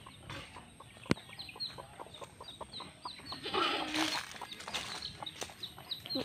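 Chickens in a rural yard in Bicol province, Philippines, with a hen and chick among them, clucking softly and repeatedly at mid distance over a busy outdoor background with other birds chirping.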